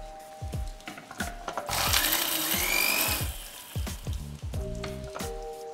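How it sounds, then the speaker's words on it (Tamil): Dried red chillies crushed into chilli flakes with a scattered run of crunchy cracking hits, then a sustained grinding burst in the middle, followed by more short crunches near and alone. "நல்ல ஒரு சில்லி ஃப்ளேக்ஸ் மாதிரி க்ரஷ் பண்ண போகிறோம்"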